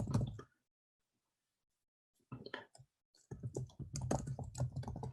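An email address is typed on a computer keyboard in quick bursts of close clicking keystrokes, then a short silent pause, then a denser run of typing.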